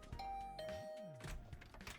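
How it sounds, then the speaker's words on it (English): A doorbell beside a dormitory room door in The Hundred Line rings a clear two-tone chime, quiet and alone, followed by soft thuds. "I rang the bell by the side of the door."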